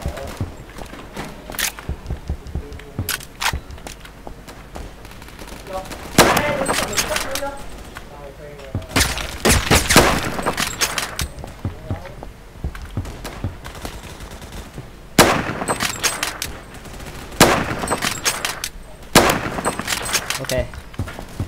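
Gunshots in Roblox Phantom Forces, a sniper-rifle firefight: several loud, sharp bursts of gunfire spaced a few seconds apart, each ringing out over a steady bed of game noise and footsteps.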